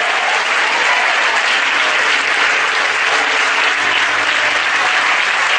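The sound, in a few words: audience applause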